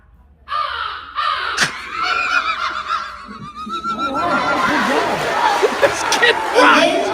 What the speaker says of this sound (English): Give you 2 species of crows: the American crow and the fish crow.